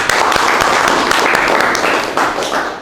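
Classroom applause during a teaching lesson on engine cooling systems, a loud, dense burst of clapping from a group of students, sustained and close, with a few distinct claps near the end.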